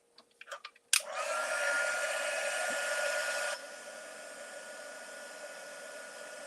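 A heat tool used for card making switches on with a click and blows a steady, airy hiss like a hair dryer, then drops to a quieter, even rush partway through.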